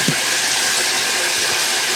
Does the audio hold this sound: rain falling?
no